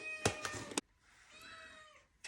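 A cat gives a drawn-out meow, close and fairly loud, after a few sharp clattering knocks, with the start of another sound cut off at the end.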